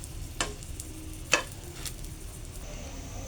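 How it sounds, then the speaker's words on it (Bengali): Dried red chillies and a green chilli frying in a little oil make a faint, low sizzle broken by a couple of sharp clicks from stirring or popping, with no voice. "এখানে আমি শুকনা মরিচ প্লাস একটা কাঁচা মরিচ হালকা একটু তেলে টেলে নিচ্ছি"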